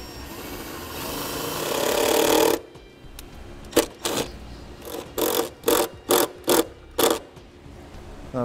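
A self-tapping screw is driven into the body of a 2015 Subaru Outback Wagon for a ground, making a sustained power-driver whir followed by a series of short, sharp bursts of tool spin and clicking, close by.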